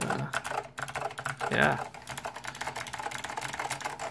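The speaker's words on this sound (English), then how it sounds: "this is the typing test for the K2AX" Typing on a Monterey K2AX mechanical keyboard with SKCM Blue Alps switches and thick AEK2 PBT keycaps: a steady, fairly close run of crisp clicky keystrokes, with a brief spoken word near the start.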